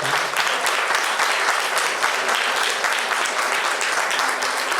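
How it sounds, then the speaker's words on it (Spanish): Steady applause from a conference audience fills the room, dense and continuous clapping at moderate loudness with no talk over it. "Por favor, un aplauso."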